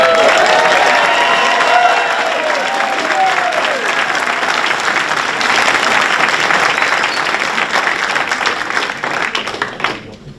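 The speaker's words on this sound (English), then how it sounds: "2024 Pioneer High School CIF Southern Section Champions. Give them a round of applause" A school board meeting audience claps and cheers loudly for the 2024 Pioneer High School CIF Southern Section champions, with whoops rising early over steady dense applause that tapers off near the end.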